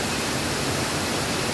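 Natural mountain waterfall pouring into a swimming pool, a steady, dense rushing roar with no breaks, close and loud throughout.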